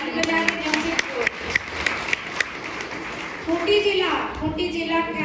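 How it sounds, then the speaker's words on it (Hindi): A large audience at a crowded religious gathering claps for the group from Jamshedpur, scattered sharp claps rising into a denser burst of applause near the end, heard under an amplified voice and crowd noise. "ताली बजा के, जमशेदपुर।"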